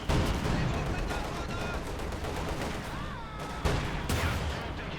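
Tank cannon fire strikes an IS-2 in a Company of Heroes 2 match, heard as dense, repeated explosive bursts and gunfire crackling over a loud battle din, with a sharp heavy impact late in the stretch.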